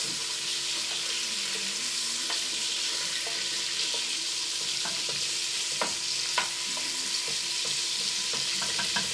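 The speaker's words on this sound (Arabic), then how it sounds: "الدجاج تاعو يتقلى بالعقل." Chicken fries gently in a cocotte pot, giving a soft, even sizzle throughout, broken by scattered clicks and scrapes of stirring.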